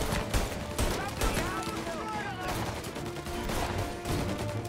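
Dense gunfire in the Mafia: Definitive Edition video game, a steady fusillade of shots running throughout at close range, with a voice talking over it.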